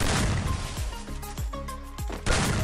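Rapid gunfire in a shooter game, several sharp loud shots with booming tails spaced irregularly over a couple of seconds, ending in a heavier blast.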